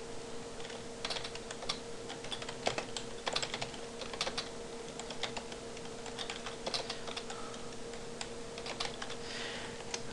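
Steady typing on a computer keyboard while entering PHP code, a continuous stream of close, crisp key clicks with occasional sharper strokes over a faint steady electrical hum, no voices.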